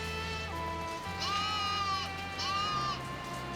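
Goat bleats twice in quick succession, each a wavering, drawn-out cry over a steady low hum, fairly close and clear, with no talking.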